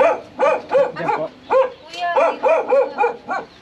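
A dog barks repeatedly in a rapid, rhythmic series of sharp, close barks, about a dozen in quick succession, with a brief whine between bursts.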